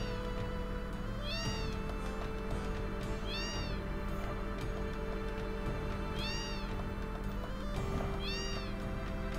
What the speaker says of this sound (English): there are so many fucking cats